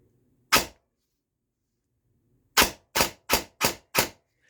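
An airsoft gun fitted with a 27k Warhead motor fires one sharp shot, then after a pause a rapid burst of five crisp, evenly spaced cracks, loud and close in an otherwise quiet space.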